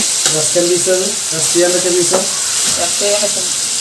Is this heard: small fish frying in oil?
yes